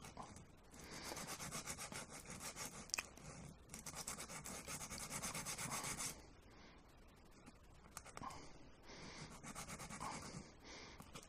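Coarse sandpaper rubs back and forth over a Commodore 64 warranty seal in steady, close, rasping strokes, pausing briefly midway before the scratchy sanding resumes.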